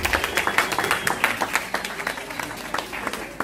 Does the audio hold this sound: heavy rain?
no